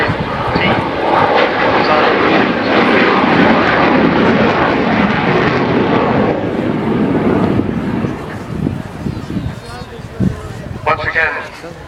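Avro Vulcan XH558 jet bomber with four Rolls-Royce Bristol Olympus turbojets at the Yeovilton airday, making a loud, sustained, rumbling jet roar that fades slightly toward the end while a commentator talks over it.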